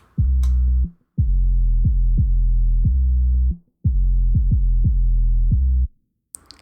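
Deep, muffled bass drum thumps, the isolated low-frequency band of a drum beat, repeat in a steady pattern, booming low with short gaps between groups of hits, no other instruments audible.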